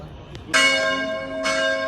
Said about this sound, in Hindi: इनके इस तरह की घंटियाँ बजती हैं इनके चर्च में